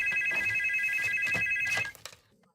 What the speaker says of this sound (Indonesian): Yung Suk menelepon Suyun